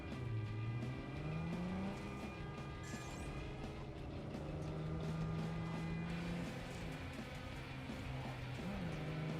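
Car driving in the video game Cyberpunk 2077, a continuous engine hum with wavering pitch that rises and falls as it accelerates, steady and fairly quiet throughout, with no talking.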